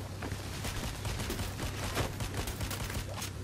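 Sustained gunfire in the heist shooter Payday: The Heist crackles in rapid, overlapping shots, fairly faint and steady throughout, like a firefight heard from a short distance without clear speech.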